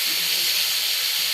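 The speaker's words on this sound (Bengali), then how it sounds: "কালো জিরাটা ফুটে যাচ্ছে" Black cumin seeds sizzle in hot cooking oil, a steady, close hiss that holds evenly for a little over a second with no voices.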